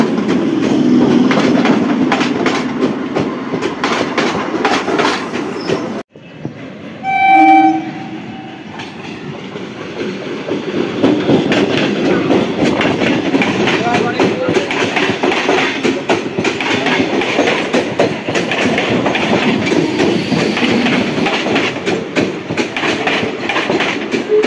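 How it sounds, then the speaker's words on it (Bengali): A Dankuni–Sealdah local train passes at Bidhannagar Road, loud rhythmic clatter of wheels over rail joints, broken by a brief dropout and a sharp horn blast before the steady rumbling and clacking resume for a long stretch. "এটা গেল ডাউনে ডানকুনি শিয়ালদা লোকাল।"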